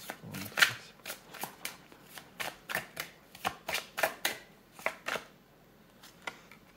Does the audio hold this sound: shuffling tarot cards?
yes